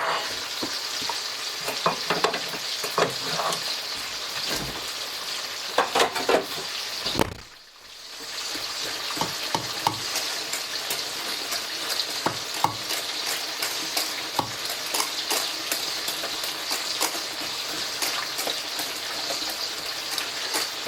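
A spoon works butter into mashed potatoes, giving a steady, soft, wet squelching and scraping with a short pause partway through, then continuous stirring, close up.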